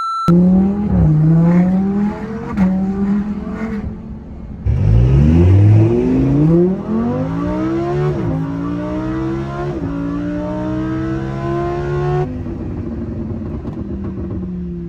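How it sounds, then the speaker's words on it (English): A Lamborghini Huracan accelerates hard, its engine note sweeping upward through the gears with loud, close revving that climbs again after each quick shift dip, with no talking. "when you're accelerating, you feel like it should have shifted, and then it just keeps going, and it just keeps climbing"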